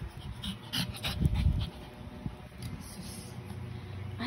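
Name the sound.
dog panting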